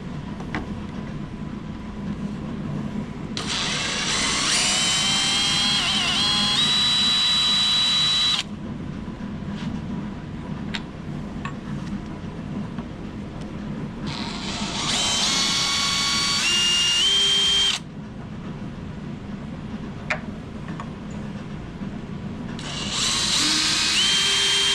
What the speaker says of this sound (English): we're going to get this hinge off, and we're going to start on this side and take these 3 screws out